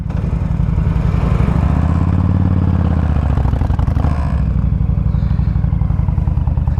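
A 2007 Honda VTX1300 Champion three-wheeled trike runs close by with a loud, throbbing low rumble. A brief rise and fall in revs comes early, then settles into a steady, pulsing idle.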